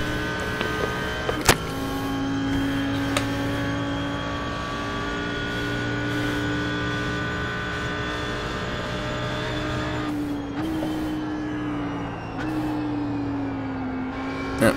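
An Audi R8 GT3 in iRacing at Mosport drones steadily at high revs, pitch drifting up and down with a couple of gear-shift drops and faint clicks.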